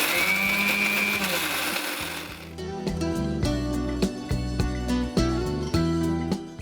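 A kitchen mixer grinder blends curry leaf powder with tamarind, salt, asafoetida and oil, its motor whirring loud and near after a short start, with a steady buzzing tone and slight pulsing.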